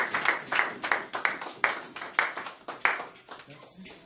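A church congregation claps together in a steady, quick rhythm, with a voice over the clapping.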